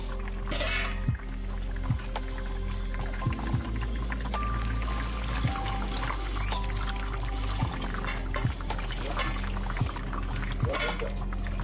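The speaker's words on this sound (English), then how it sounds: "So now, we'll transfer everything into a smaller container." Gold-refining acid solution made from dissolved e-waste metals is poured into a smaller container, producing a steady liquid flow with occasional light knocks of glass or plastic.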